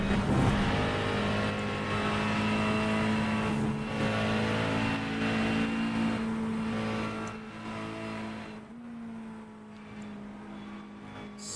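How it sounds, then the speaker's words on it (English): McLaren hypercar engine heard onboard in a 24-hour endurance racing video game, a steady loud sustained drone with a strong harmonic whine that shifts pitch slightly, fading somewhat near the end. "we're gonna ride on board here with this McLaren, and just listen to how beautiful this car is."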